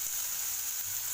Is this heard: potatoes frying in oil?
yes